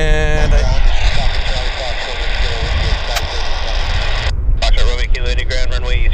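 An aircraft at Vancouver International Airport at sunset gives a steady, dense engine roar that fills the whole clip, with voices talking over it throughout.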